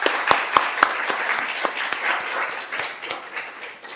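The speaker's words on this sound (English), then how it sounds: "Can we just round of applause for these panelists?" An audience at a panel discussion claps, with a few sharp, distinct claps at first that settle into a steady, moderately loud round of applause.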